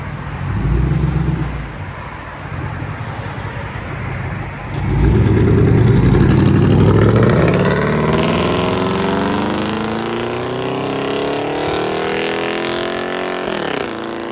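Dodge Dakota 4.7L V8 with true dual straight pipe exhaust and a manual transmission, loud rumbling idle that surges into a roaring rev, then a long rising pull in pitch, heard up close.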